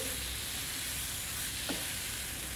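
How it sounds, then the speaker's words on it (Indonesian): Sliced large green chilies stir-fried with sugar and stock powder in a pan with chicken, a steady close sizzle throughout with a brief scrape of stirring partway. "Masukkan cabai hijau besar yang udah diiris serong. Aduk-aduk."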